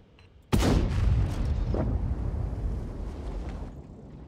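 A tank gun firing in World of Tanks: one sharp, loud cannon blast that breaks the quiet, then a long rumbling boom that fades slowly over several seconds, with no talk.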